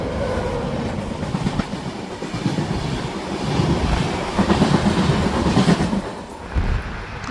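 A passenger train rolls along the rails between Angadipuram and Ottapalam, heard from inside as a loud, continuous rumble with rhythmic clickety-clack from the wheels that swells midway, no voices over it.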